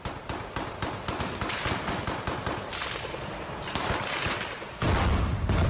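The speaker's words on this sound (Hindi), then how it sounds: "कुछ रूसी सैनिक एक इमारत की ओट लेकर यूक्रेन के सैनिकों पर ताबड़तोड़ गोलियां चलाते नजर आए" Russian soldiers firing from cover behind a building in Mariupol, a loud rapid burst of automatic gunfire with dense repeated cracks, ending in a heavier sustained blast.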